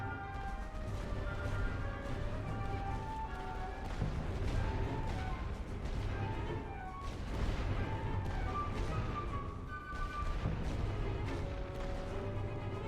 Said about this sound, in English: Load for area barrage. Ready for fire orders. Start the barrage.